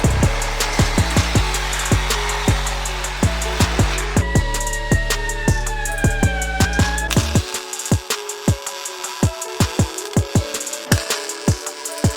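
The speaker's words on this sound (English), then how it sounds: "we just gotta chop off the end and flare it" Saw cutting the end off a steel exhaust pipe from a Mustang GT resonator delete, a steady rhythmic series of close, loud strokes with a harsh grinding buzz, fading to sharper, sparser strokes near the end.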